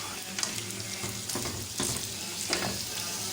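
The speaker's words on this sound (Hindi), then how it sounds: "अब हमने इसमें चिकन डाल दिया है। ये हमारा फ्राई होगा चिकन।" Chicken pieces fry over high flame in oil in a pan for Balochi tikka karahi, a steady loud sizzle with occasional stirring scrapes and bursts of crackle.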